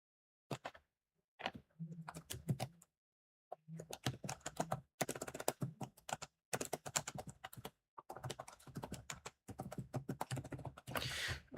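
Bursts of rapid keyboard typing on a computer keyboard, close and fairly quiet, coming in several clusters separated by short pauses, with no talking.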